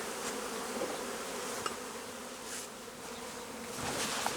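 Dense, continuous buzzing of many honeybees swarming close around an alpine-style hive, a steady droning hum with no voices.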